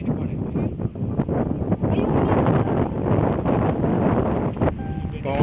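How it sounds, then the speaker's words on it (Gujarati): Strong wind buffets the microphone in a steady, loud roar at Raval Dam, with a voice faintly audible beneath the gusts. "પવન પણ બહુ જ છે"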